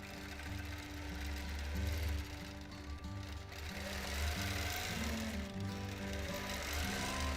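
Sewing machine free-motion quilting matchstick lines on loosely woven fabric, a steady rapid mechanical hum that speeds up and slows in stretches, with no talking.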